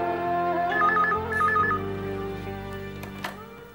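A telephone rings in a TV drama scene in two short trilling bursts over a soft, sustained background music bed, moderately close, with no talk over it.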